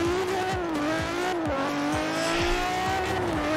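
The Quartz Regalia from Forza Horizon 4 cruises down a highway, its steady engine note holding a continuous tone with periodic gear shifts and a constant close roar.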